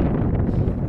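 Strong wind at a high, rocky, sparsely treed backpacking campsite, a steady low roar buffeting the microphone throughout, with no voices.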